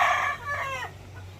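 A Darag native chicken crossed with a Rhode Island Red crows once, close and fairly loud, the call falling off after under a second.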